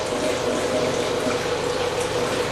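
A toilet tank refills with water, a steady close rushing hiss of flowing water that runs without pause and with no voices.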